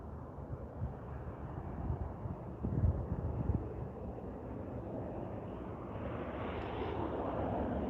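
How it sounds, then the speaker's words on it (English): An Air Canada Express airliner arriving from Victoria at Vancouver International Airport, heard as a steady, broad engine roar with wind noise, holding at moderate loudness and swelling slightly toward the end. "this Air Canada Express is flight Air AC 8164 coming in from Victoria."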